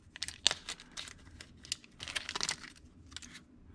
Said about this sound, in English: I want to unwrap everything and show you.